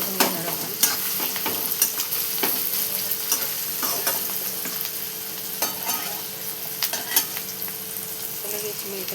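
Onion and tomato frying in a pan while being mixed, steady sizzling under repeated scraping strokes of a spoon at an uneven rhythm, close and fairly quiet, no voices.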